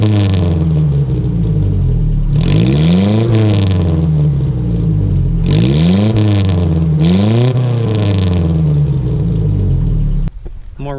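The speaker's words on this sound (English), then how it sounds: "I found that takes out some of the 4-cylinder noise, but it's still gonna sound like a 4-cylinder." A four-cylinder Nissan 720 4WD pickup engine with a MagnaFlow exhaust revs up and falls back repeatedly, three or four throaty swells over a steady idle rumble, close and loud.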